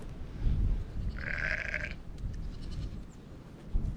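A single sheep bleats once at close range, a wavering nasal call lasting under a second, over low rustling and grazing noise.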